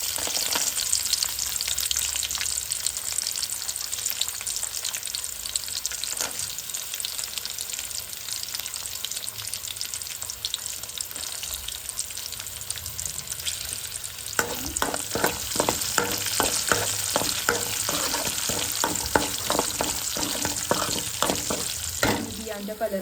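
Chilies and cashews fry in hot oil for paneer tikka, giving a steady broadband sizzle throughout, with brisk clattering stirs that grow more frequent and louder in the second half.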